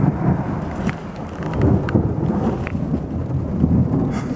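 Thunder rumbling through a rainstorm, a low, continuous rolling roar with steady rain and wind noise across the mic and no voices.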